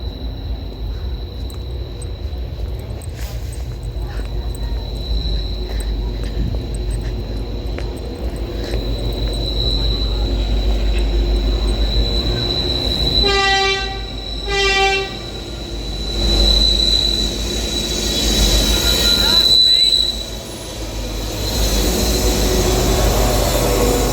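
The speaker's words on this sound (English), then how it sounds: "Oh, you have train now." A train pulls into a station, its steady rumble rising as the wheels give a long high squeal, with a brief horn toot sounding midway and the noise staying loud and close throughout.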